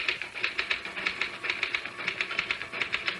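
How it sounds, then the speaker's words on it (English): Rapid, steady typewriter keystrokes clatter in a close, even rhythm, each key strike crisp and mechanical, with no voices over the typing in this 1970s radio drama scene. "Just hit the typewriter, Harry."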